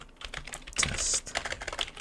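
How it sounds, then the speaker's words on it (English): Fingers tap on a computer keyboard in a quick, uneven run of close clicks for about two seconds. "So let's type in"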